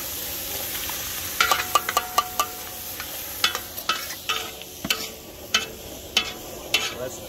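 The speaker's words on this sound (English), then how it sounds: "Put the juice and all with the diced tomatoes." Diced tomatoes with their juice go into chili cooking in a plow disc cowboy wok at a camp, giving a steady sizzle broken by repeated stirring scrapes and clinks, close and moderately loud, with no talking.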